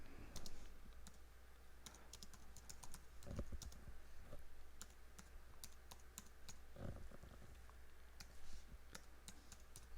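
Typing on a computer keyboard, with quiet, irregular key clicks in short bursts and brief pauses, close and isolated against a faint low hum.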